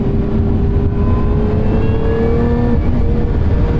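A 2023 Lotus Emira's engine revs hard close by, a loud, sustained, steady-pitched howl held high near the limiter with a slight dip and recovery, with no voices over it.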